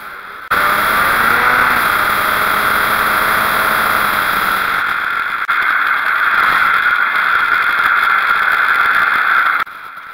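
Aprilia Classic 50cc moped engine running steadily while riding on tour, a continuous buzzing drone near and loud, with wind noise and no talking.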